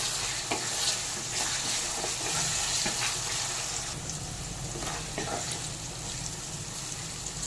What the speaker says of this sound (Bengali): দিয়ে দিলাম সেদ্ধ করে জল ঝরানো সেই সয়াবিনগুলো। এর সাথেই নেড়ে একটু ভেজে নেব।